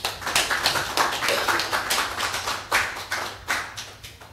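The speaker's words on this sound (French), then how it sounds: "Nous pouvons encore applaudir davantage pour notre Père dans la foi." A congregation at a Mass for peace in the DR Congo claps in quick, close bursts, a loud and lively patter that swells and dips in rhythmic waves.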